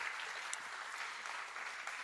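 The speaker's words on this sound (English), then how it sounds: "Can you give a round of applause for our presenters" An audience at a Thomas Fire community meeting applauds with steady, moderately distant clapping throughout.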